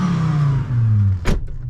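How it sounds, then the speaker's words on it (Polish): Naturally aspirated five-cylinder 1998 Volvo V70 with a modified exhaust, giving a low droning note that dips as revs fall, followed by a brief sharp burst near the end. "jak wydech mamy przerobiony w 5-cylindrowym wolno ssącym Volvo,"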